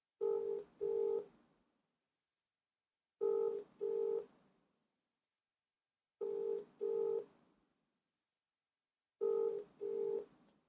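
A phone call is dialed, heard as four evenly spaced pairs of clear electronic tones, each pair a short double burst separated by a few seconds of silence.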